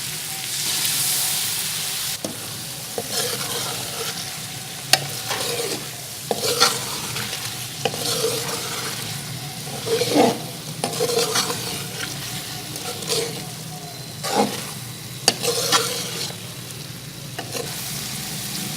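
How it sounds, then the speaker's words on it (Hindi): Beef karahi being stir-fried in a pan as yakhni broth is added bit by bit, with a steady sizzle under repeated scraping and stirring strokes of a utensil against the metal, close and continuous, no one talking. "जो हमने यखनी बचाई थी वो थोड़ी थोड़ी ऐड करके इसकी भुनाई करें।"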